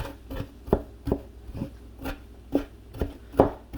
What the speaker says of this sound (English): So I'm gonna chop up these garlic a little bit finer.